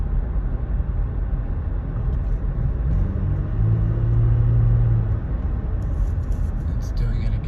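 A 2016 Toyota Tacoma V6 with an engine fault bucks and rumbles, a loud, constant low drone heard from inside the truck with a brief lower surge midway and light rattles near the end.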